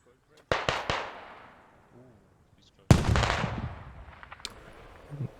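Two sharp explosive blasts from frag grenades in the tactical shooter Squad during a competitive league match on the Narva map, each a loud broadband crack with a rumbling decay, the second bigger and longer, with a commentator talking faintly between them.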